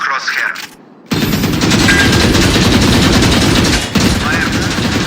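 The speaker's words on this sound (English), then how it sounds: "Aim fire a full magazine into the target." A full magazine is fired at a target in the Valorant practice range as rapid, loud automatic gunfire, one sustained burst after a short quiet start, with a brief break near the end before firing resumes.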